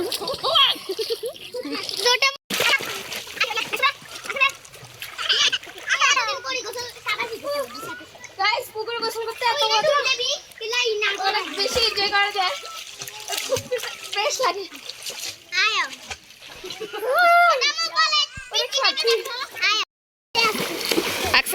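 Child splashing in water while learning to swim, with repeated splashes and trickling close by under almost constant talk from children and adults.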